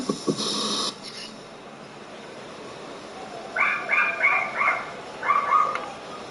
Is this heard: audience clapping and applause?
no